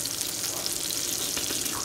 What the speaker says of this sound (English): We need some good sizzle ASMR or something.